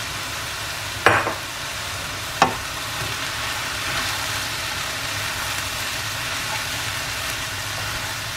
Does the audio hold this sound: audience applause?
no